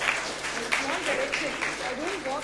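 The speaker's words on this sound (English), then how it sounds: "I think she deserves a big round of applause," At a personal leadership talk, an audience applauds a woman named Vaani, a continuous wash of clapping running beneath talking voices that stay prominent throughout.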